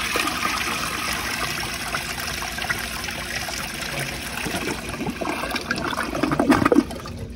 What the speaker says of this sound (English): Let's see if it could get on another flush.